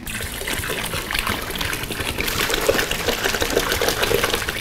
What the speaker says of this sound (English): Check out that pour, check out that pour.